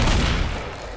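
Pump-action shotgun blast in the zombie shooter Left 4 Dead 2, one heavy booming shot with a fading rumbling tail, close and loud, no talking.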